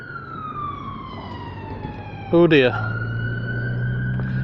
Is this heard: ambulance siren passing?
yes